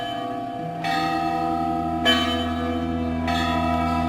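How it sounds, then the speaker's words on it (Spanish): Church wedding bells peal continuously with overlapping strikes, a new stroke sounding every second or so, rich ringing tones hanging in the air. "pues suenan campanas de boda"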